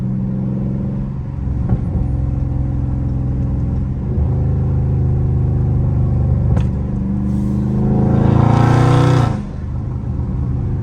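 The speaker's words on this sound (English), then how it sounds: "I'm just trying to let y'all just hear that motor" A Scat Pack car engine idles with a deep, steady rumble, briefly revving higher near the end before settling back down.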